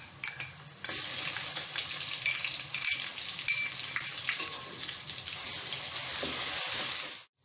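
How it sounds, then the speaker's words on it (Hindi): Garlic frying with already-fried onions in a pan for a chana dal dish, giving a steady broadband sizzle with occasional stirring scrapes and clatter, close and continuous, with no talking. "अब इसमें लहसुन डालकर उसको भी हल्का सा फ्राई कर लेते हैं।"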